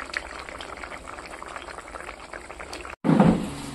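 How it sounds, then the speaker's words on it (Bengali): Milk boiling on a kitchen stove, a soft continuous bubbling hiss that cuts out briefly and then swells into a louder, fuller burst of bubbling. "এদিকে দুধটা বসিয়ে দিয়েছি, জাল দিয়ে নেব"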